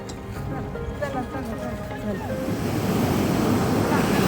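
Sea waves in the Bay of Bengal wash around a boat in the rain, a rough, swelling surge that grows louder, mixed with wind buffeting and faint voices early on.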